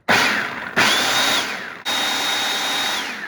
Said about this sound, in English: Okay, so I've just been pulsing it and I think it's like a nice fine powder.